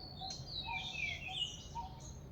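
Birds sing in quiet woods on a Sunday morning, thin high chirps and short warbling phrases over a soft background hush.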